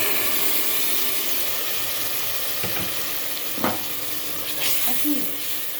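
Tomato juice is poured into a hot pan of garlic, salt and pepper for a sauce for a meat and potato stew, giving a continuous close sizzle and fry, with a couple of brief splashing bursts midway.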